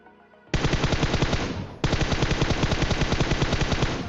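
Sustained automatic gunfire in the video game PUBG Mobile, a loud, dense rapid burst that cuts off briefly after about a second before resuming as a continuous stream of shots.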